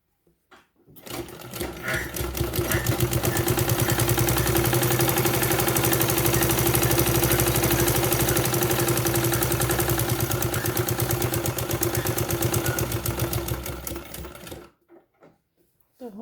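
A sewing machine stitches a school dress belt in one long continuous run, a loud, close, rapid mechanical chatter that starts, holds steady for about fourteen seconds, then stops.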